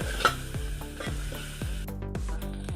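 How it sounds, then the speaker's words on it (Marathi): Spice masala roasting in oil for a mutton curry, a steady close sizzle with repeated scraping stirs of a spoon through the thick paste, no voices. "मसाले टाकल्यानंतर एकदम व्यवस्थित तेल सुटेपर्यंत भाजून घ्यायचं"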